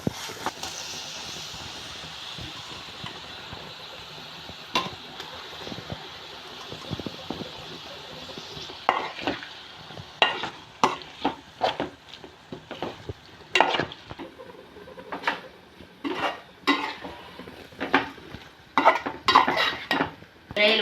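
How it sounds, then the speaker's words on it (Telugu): Raw prawns being stirred into masala with chili powder and turmeric in a pan for a prawn and egg curry, with repeated clinks and scrapes of a spoon against the metal over a soft, steady frying hiss. "మసాలా బాగా కలుపుకున్నాక పచ్చిరొయ్యలు వేసుకోవాలి."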